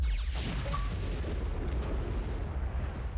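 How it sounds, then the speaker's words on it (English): A loud, rumbling enemy explosion in the RoboQuest video game, a sustained blast with a booming low roar that fills the whole stretch without pause. "We triggered Billy Boom's explosion?"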